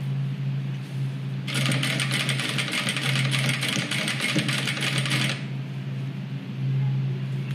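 A sewing machine stitches around a towel hygiene kit, a close, rapid mechanical rattle that runs for about four seconds over a constant low motor hum, then stops.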